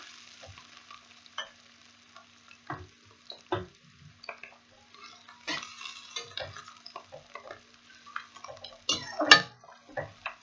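Bitter gourd peels being stirred and fried in a pan while preparing a keema karela dish, with scattered soft sizzles and scraping stirs coming in irregular bursts, close and fairly quiet, with no talking.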